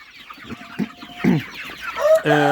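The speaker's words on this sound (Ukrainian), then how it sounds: "Курочки триколор." Several tricolor hens cluck in short bursts, close by, followed by a louder drawn-out squawk at the end.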